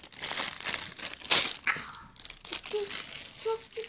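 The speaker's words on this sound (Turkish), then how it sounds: "arkadaşlar son poşetimiz burada" A plastic pouch from a surprise toy egg is torn open and handled, with busy crinkling and crunching in close irregular bursts, alone with no voices.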